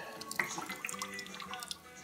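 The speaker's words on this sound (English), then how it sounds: "now I'm going to pour that into my brewing bucket" Sparged wort is poured into a brewing bucket, producing a faint, uneven trickle and splash of liquid with scattered drips over about two seconds.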